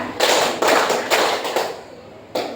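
A ninth-grade class claps together in a classroom, several sharp group claps landing at an uneven pace, each loud and close with a short ring between them.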